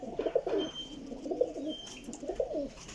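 A Teddy pigeon coos nearby in soft, rolling phrases that repeat a few times, with faint background noise and no talking.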